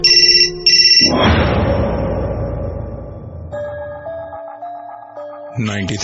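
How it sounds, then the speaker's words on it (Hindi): A mobile phone ringtone chirps twice, then a melodic electronic ring sounds loudly, left on charge in a radio drama scene, with a whooshing sting and music swelling beneath the ringing. "चार्ज पर लगा उसका फोन अचानक से बज उठा"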